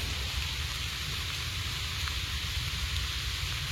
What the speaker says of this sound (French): Et là, il commence à pleuvoir